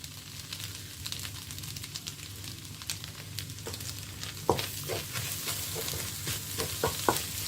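Onion and egg frying in a pan are stirred, a steady low sizzle running under repeated scraping and clicking strokes of the spoon against the pan, close and fairly quiet.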